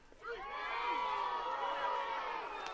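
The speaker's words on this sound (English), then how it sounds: "That's why you heard the crowd let out the little groan there." Crowd at a softball game lets out a murmuring groan after a pitch is called a ball, a sustained mass of voices rising and holding near the stands.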